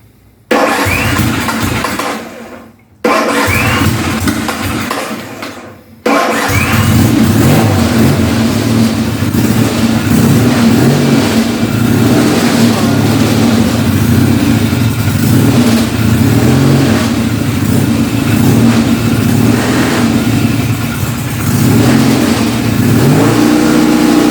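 Norton Commando motorcycle engine cranking in two short attempts that stall, then catching and running steadily with loud, sustained revving close by, no talk over it.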